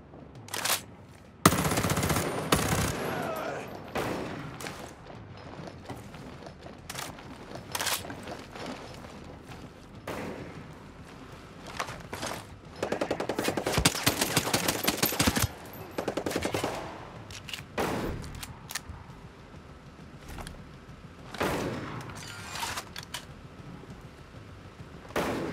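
Bursts of automatic and single gunfire in the tactical shooter Ghost Recon Breakpoint, loud volleys and rattling machine-gun strings recurring through a firefight, with quieter gaps between exchanges.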